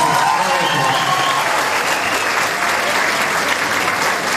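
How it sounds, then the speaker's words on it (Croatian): An audience at an Easter ball in Beli Manastir applauds, with a dense, even wash of clapping from a large crowd sustained at full volume for the whole span. "Ajmo na aplauz."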